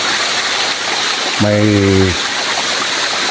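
A small waterfall on a mountain top, swollen after rain, pours in a steady loud broadband rush throughout while a person briefly speaks over it.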